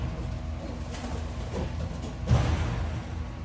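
Racing homer pigeons coo softly in a breeding loft, a low steady murmur with a brief louder burst partway through.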